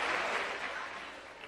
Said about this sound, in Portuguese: Aplaude com vontade.